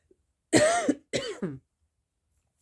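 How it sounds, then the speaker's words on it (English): Two harsh coughs close up, a longer one followed by a shorter double cough, then quiet. "It's probably not going to be the only time I cough."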